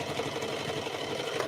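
A sewing machine runs steadily while stitching a fabric cape, a continuous close whirring hum with fine rapid ticking that carries through the whole moment before easing off right at the end.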